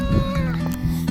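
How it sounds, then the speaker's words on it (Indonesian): Oscar, Scott's 13-year-old cat in a Scottish countryside village, gives a short, close meow of about a second with a strong, clear pitched tone and a steady hum underneath. "kucingnya Scott nyamperin."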